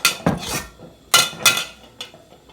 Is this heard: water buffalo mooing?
no